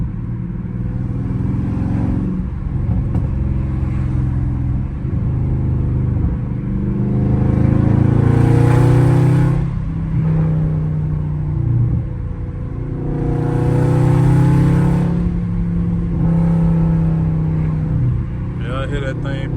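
A car engine revs hard and drops back in two long surges while driving in the rain with all four windows down, wind noise throughout and someone talking over it.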